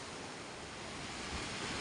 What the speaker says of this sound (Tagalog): Dagat pa rin yan.